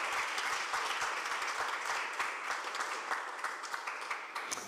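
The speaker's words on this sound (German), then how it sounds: "Ich begrüße sie mit einem fetten Applaus." Audience applause at a live Dead or Alive Slam poetry event welcoming two hosts, a dense, even wash of many hands clapping throughout, no voices over it.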